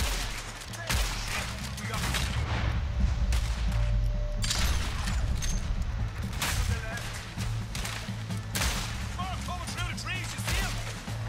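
Gunfire in Red Dead Redemption 2 during a train robbery: repeated sharp shots crack out over about eleven seconds amid game noise and scattered voices, mid-level and fairly distant.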